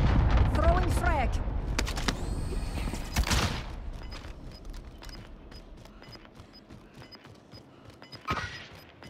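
Frag grenade explosion in Call of Duty: Modern Warfare, a loud close blast with rumbling debris early on amid voices and game effects, then quieter rattling gunfire and clicks trailing off, with a second burst near the end.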